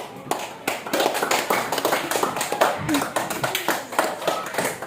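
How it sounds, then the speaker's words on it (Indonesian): Classmates clap for a group's correct answer during a classroom lesson: scattered, uneven hand claps and taps from a small group, moderately close, with some background room noise. "Karena kelompok 1 sudah menjawab dengan benar, tepuk tangan."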